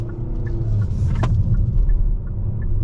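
A 2023 Kia K5 GT Line AWD pulling out and turning left, its engine a steady close low rumble with a brief higher whine in the middle.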